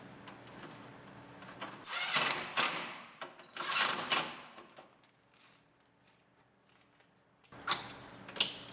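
Bolting a radiator filler neck into a Honda Civic: bursts of ratcheting and metallic clicking from hand tools come in several clusters, close and fairly loud, separated by quieter pauses with no talk.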